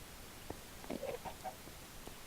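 Chickens in the Minecraft FTB modpack give a few soft, short clucks close together around the middle, faint over a quiet background hum.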